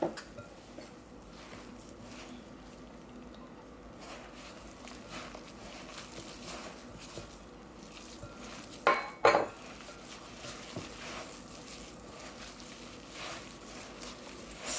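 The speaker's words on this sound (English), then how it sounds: "I'm going to mix this in thoroughly" A utensil stirs melted butter into a vegan cinnamon toast crunch mixture in a bowl, with soft continuous scraping and patter and a couple of sharper clinks against the dish partway through, close and fairly quiet.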